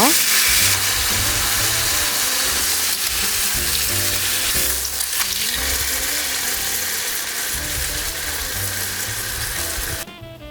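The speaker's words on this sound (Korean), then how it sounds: "팬을 강불에 올리고 기름을 둘러주세요. 양념에 재운 고기를 올려 앞뒤로 구워주세요." Marinated beef sizzles and fries steadily in an oiled pan over high heat, a loud, dense, continuous crackle with occasional stirring, close up and without speech.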